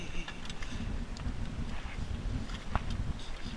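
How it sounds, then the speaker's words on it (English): Steady, rumbling wind buffets a boat at sea, a constant low roar close to the microphone with faint creaks and knocks underneath. "Bloody wind"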